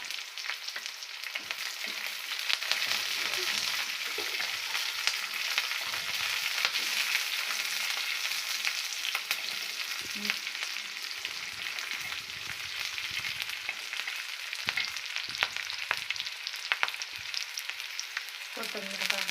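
Green chilies and garlic fry for tomato chutney in hot oil, a steady dense sizzle with crackling and occasional stirring scrapes, close and continuous.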